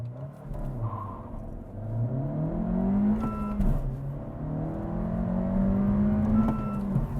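A 2025 Honda Civic Si with a manual gearbox and turbocharged engine pulls hard from a standstill, its engine note climbing steadily in pitch, dropping briefly at a shift, then rising again, heard from inside the cabin.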